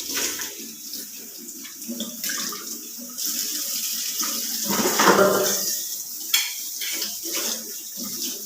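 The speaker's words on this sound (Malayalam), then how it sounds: "അങ്ങനെ കുറച്ച് പാത്രങ്ങളെല്ലാം ഉള്ളതെല്ലാം തേച്ച് വെച്ചിട്ടുണ്ട്. ഇനി ഇതെല്ലാം ഒന്ന് കഴുകിയെടുക്കുവാണ്." Running tap water splashing steadily into a sink while dishes and utensils are rinsed in a village kitchen, with occasional clinks of pots and cutlery and no talking.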